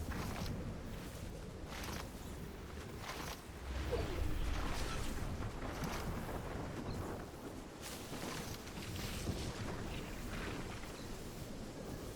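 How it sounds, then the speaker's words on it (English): Stormy ambience from the Fortnite storm in a Zero Build ranked match: a steady, roaring wind-like rush with low rumbling that swells louder around the middle and carries on continuously without speech. "Just nice to hear the storm"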